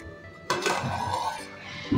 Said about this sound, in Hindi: अच्छे से ढक्कन लगा देंगे।